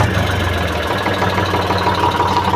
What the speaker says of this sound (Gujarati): ટ્રેક્ટર અવાજ નહીં આવતો એનો અવાજ કેમ બાકી મસ્તીનો હોય જો સાંભળજો